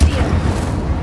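Incendio, the fire spell from Hogwarts Legacy, is cast with a loud, deep, rumbling burst that holds through the second like a roaring blaze.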